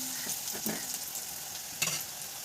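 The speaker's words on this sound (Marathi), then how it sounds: "कांदा पण चांगल्या पद्धतीचा भाजतोय" Onion frying in a pan gives a soft, steady sizzle, broken by a few brief scraping clicks as it is stirred, quiet and close with no voices.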